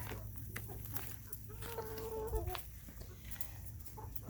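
Chickens cluck quietly in a hot, shaded garden yard while picking through pulled plants, a faint stretch of soft clucks and calls over low background noise with no talking.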